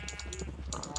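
Repeated short sheep bleats from a Minecraft farm, several overlapping calls in a quick rhythm over a steady background hum, moderately loud and close.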